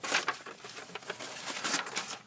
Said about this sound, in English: Sorry for the paper noise.